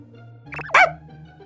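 A person imitates a dog barking with a single short, sharp 'woof' that rises out of a quiet background, preceded by a brief vocal sound.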